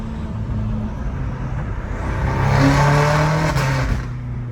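A tuned BMW M5 Competition engine revs up to a loud, steady roar that builds midway and holds, with no one talking over it.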